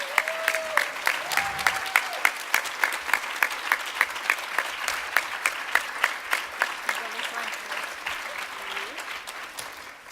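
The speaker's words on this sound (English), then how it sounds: "Let's give them one big last round of applause." Luncheon audience applauding as honorees leave the stage, a sustained wash of many hands clapping that falls into a loose beat and slowly fades, with a voice speaking over it near the start.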